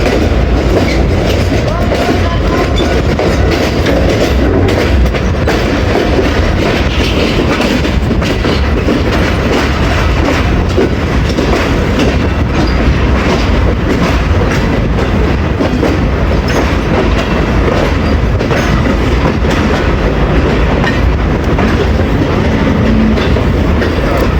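Hazara Express train with its locomotive and new coaches rolling past nearby, a steady, loud rumble with continuous clickety-clack of wheels over rail joints lasting throughout, with no talk.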